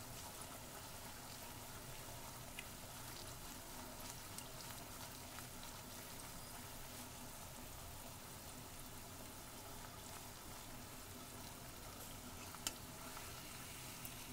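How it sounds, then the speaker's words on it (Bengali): Pumpkin sweet poori deep-frying in oil over a medium flame, giving a steady, even sizzle and bubbling hiss that holds unbroken throughout with no voices. "আমি এখানে মিডিয়াম ফ্লেমে পুরিটাকে ভাজছি যাতে খুব বেশি লাল না হয়ে যায়"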